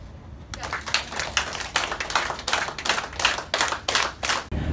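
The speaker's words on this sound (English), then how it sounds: "you're gonna clap your hands 30 times with your mantra in your head" A person claps their hands steadily and repeatedly during a guided manifestation exercise, about a dozen crisp, evenly spaced claps, close and loud.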